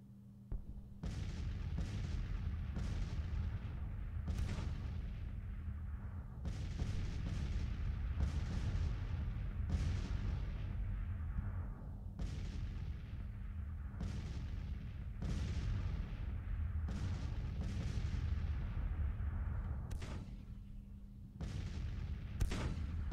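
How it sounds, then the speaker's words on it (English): Booming artillery fire from the Grand Tactician: The Civil War video game, with repeated heavy shots at irregular intervals over a steady low rumble, each boom followed by a short fading tail. "They're going to come under artillery fire, no doubt."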